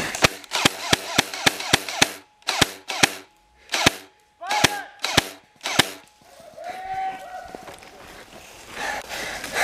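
Airsoft gun firing during a skirmish: a rapid string of sharp, close pops followed by spaced single shots, then quieter rustling as players move.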